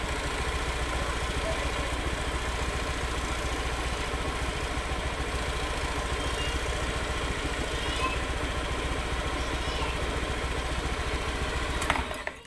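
A Honda Beat FI motorcycle engine idles close by with a steady, even mechanical putter and light clatter, running continuously at constant loudness.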